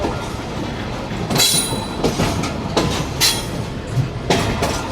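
Passenger train, the 47 Up Rehman Baba Express in Pakistan, running on the rails, with a steady rumble, clickety-clack wheel beats and several bright metallic squeals close by.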